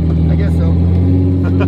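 A 1000-horsepower Toyota 4Runner with a 2JZ engine and aggressive cams idles with a lumpy, loping rumble, steady and close, with a voice talking over it.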